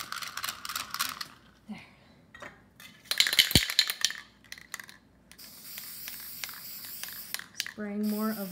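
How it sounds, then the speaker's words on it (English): Several short hissing sprays from a spray bottle over an acrylic painting on glass, interspersed with brief clicks and a voice talking, followed by a sustained airy hiss. "Spraying more of my spray over top."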